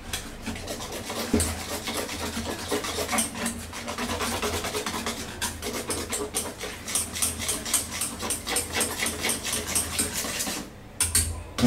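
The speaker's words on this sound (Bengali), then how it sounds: "অল্প অল্প করে পানি দিয়ে আমি এটাকে একটা পাতলা টাইপের একটা ব্যাটার বানাবো, যাতে ভিতরে কোনো দলা না থাকে" A whisk or spoon works a thin egg and flour batter with added water in a bowl, brisk rhythmic scraping and tapping against the sides that carries on almost without a break, close and fairly loud.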